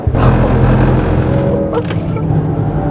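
A 680 hp all-wheel-drive Mercedes C 63 S E Performance accelerates on the Ascari race track, its engine a loud, sustained roar heard close throughout.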